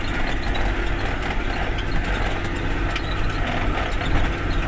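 A tractor drags a harrow deeper through soil, working harder under load, giving a steady, loud mechanical rumble with continuous clanking and rattling of metal parts, close and unbroken, with no voices.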